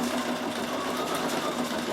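A Bernina 7 series sewing machine with embroidery unit stitches an open digitized design, a dense, steady mechanical whir with a rapid needle rhythm, close and continuous.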